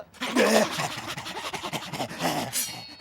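A cartoon dog from an animated rat comedy series snorts and pants over about three seconds of busy, close, loud cartoon sound, with voice-like squeals mixed in.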